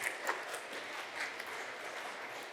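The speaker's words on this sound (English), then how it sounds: "Please give him a round of applause." Audience applause greets a guest speaker being introduced at a conference, a steady, fairly faint wash of clapping from a room of people lasting a few seconds.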